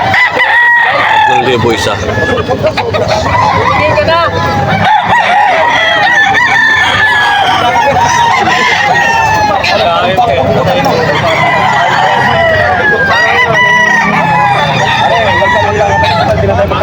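Young roosters (stags) crowing repeatedly at a busy poultry market in Bocaue, Bulacan, their loud calls overlapping against market bustle while people talk and haggle nearby.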